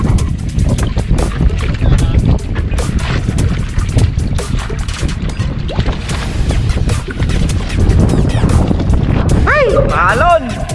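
Rough, choppy sea slaps and churns around a small boat during mussel harvesting, a constant broadband wash of water and wind with knocks and splashes, while voices talk over it.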